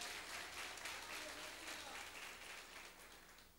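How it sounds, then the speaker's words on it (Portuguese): A church congregation applauds, a dense and steady wash of clapping that slowly fades toward the end. "Aplauda o Senhor."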